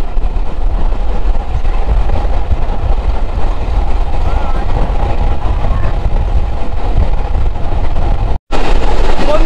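Local train running on the Mongla to Benapole line, heard from beside the open door, a loud steady roar of wind and wheels that cuts out briefly near the end.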